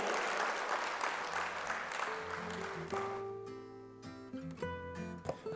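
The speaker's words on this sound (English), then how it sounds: "A round of applause for CA Rishi Chawla, our new treasurer" Applause from an audience at a formal stage event fades out over the first few seconds, giving way to tonal music that continues quietly.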